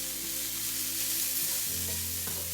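Vegetables fry in a pan with a steady bright sizzle, close and continuous, with a low hum and a few faint clinks or stirring movements underneath.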